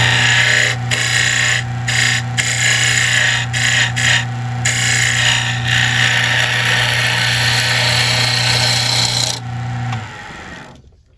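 A power tool carves a groove under the wing of a wooden Christmas angel, making a loud, close, continuous high whine with rasping grind that briefly cuts out several times before winding down near the end.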